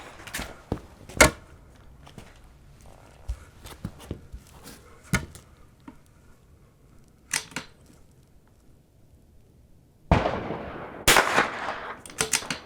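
Sharp .22 rifle shots at an outdoor shooting range during an NRL22 match, a dozen or so scattered single cracks of varying loudness with quiet gaps, then a louder rustling, clattering stretch near the end.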